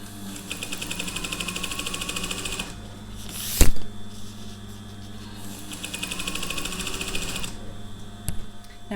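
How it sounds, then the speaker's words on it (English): A sewing machine stitching a shower cap runs in two bursts of rapid, steady mechanical whirring, close and loud, with a sharp click or clunk in the pause between them and another near the end; no one speaks. "stop sewing a couple of inches from where the other one is"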